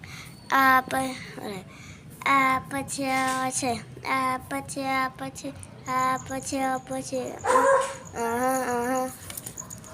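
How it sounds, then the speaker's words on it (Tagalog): A dog gives a run of short barks and yips mixed with high whimpers, loud and close, in bursts across the clip, with a voice faintly in the background. "mapaglaro natin tayo sa may aso natin"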